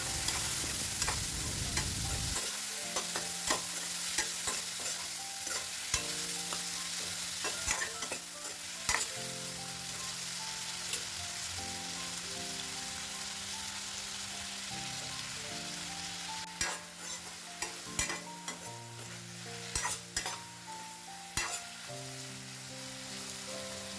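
Potatoes and small round vegetables frying in a pan, a continuous close hiss like light rain, with scattered sharp stirring clacks growing more frequent toward the end, no voices.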